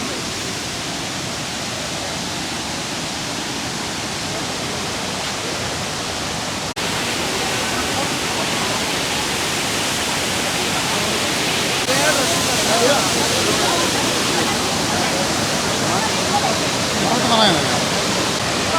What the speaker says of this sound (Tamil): ஆனால் அது ஆர்ப்பரிக்கும் அருவியாக இருந்ததாலும்